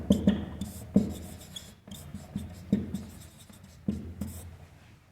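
Pen writing on paper during a maths lesson, heard as a series of short scratchy strokes with brief pauses between them, close and fairly quiet, with no voice over them.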